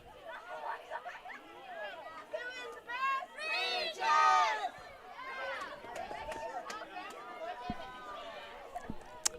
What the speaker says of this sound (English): Some back and forth cheering